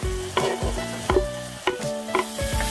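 Chopped onion frying in oil for tacos de canasta, a close loud sizzle with repeated metallic scrapes and clinks of a spoon against the pan at a steady pace.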